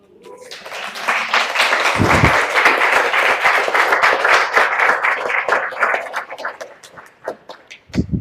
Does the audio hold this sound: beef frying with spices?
no